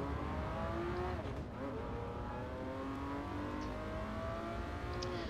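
McLaren race car engine in GT Sport revving hard and climbing through gears, loud and close with rising harmonic whine and a brief shift dip, no talking.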